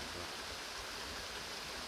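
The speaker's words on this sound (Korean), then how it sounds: "여기 또 개울 물도 흐르고 좋네" A forest stream flows in a soft, continuous, faint rush of water, steady and unbroken, with no voices over it.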